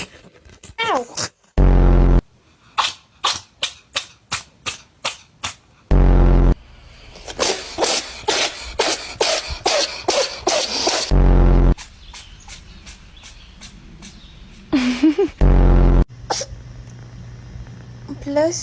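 A cat sneezes repeatedly, a rapid series of sharp, short bursts in quick succession, with a person's voice talking and reacting over and between the sneezes.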